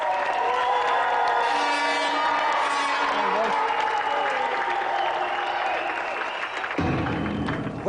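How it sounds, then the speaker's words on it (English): Studio audience on a children's video-game TV show breaks into loud, sustained applause with some cheering, filling the room steadily for several seconds before tapering slightly. "a round of applause for our gallant loser, Conley, and tonight's winner, Jeff!"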